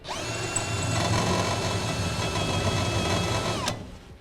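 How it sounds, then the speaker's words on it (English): A power drill with a 1/4-inch bit whirs steadily at high speed for a few seconds while drilling through a template during a gooseneck hitch installation on a 2011 Chevrolet Silverado, then winds down and stops. "take our 1/4-inch drill bit, place it in the template,"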